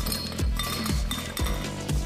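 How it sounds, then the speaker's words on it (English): Fresh ice cubes clink into a tall glass of about 400 milliliters while it is packed for a Long Island iced tea, giving a few bright, separate knocks at an uneven pace over a low background hum. "Pack up the glass with lots of fresh ice cubes."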